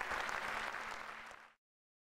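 Quiet audience applause at a spring recital concert, an even patter of many hands for about a second and a half before it cuts to silence.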